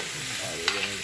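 Potatoes (aloo) stir-fry in curry in a pot, with a spoon turning them through the hot sauce. Steady close sizzle under a brief scrape and clink of the utensil, no voices.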